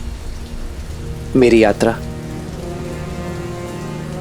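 Heavy rain pours down in a mythological drama scene, a steady loud hiss running throughout, with a brief voice rising over it partway through.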